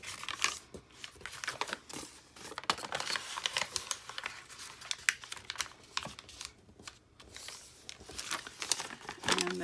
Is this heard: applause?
no